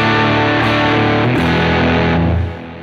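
Duesenberg Paloma electric guitar in Catalina Blue played with a reverb-drenched surf tone, a loud sustained chord ringing out and fading near the end.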